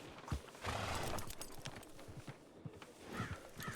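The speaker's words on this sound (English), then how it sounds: "we heard your horses coming in the wagon" In a western video game, horses pulling a wagon clip-clop with steady hoof beats, and a whinny rises over the rolling clatter.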